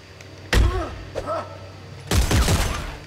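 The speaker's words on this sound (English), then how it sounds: "I wish I could just change this machine gun to run to shoot faster" Gunfire in the sci-fi horror game Dead Space 3, with sharp separate shots and one short cluster of rapid bursts, loud and close over a low game background.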